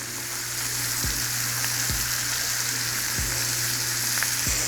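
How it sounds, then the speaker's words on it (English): A steak sizzles steadily in a pan while a whole stick of butter and fresh garlic are spooned over it, a loud continuous crackle broken by four soft low thumps from the basting, with no one speaking. "we're gonna keep adding that butter and we're gonna keep basting it"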